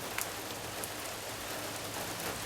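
Steady rain falls outdoors as a dense, even hiss of drops on surfaces with a few sharper nearby patters, continuous and fairly loud with no voices.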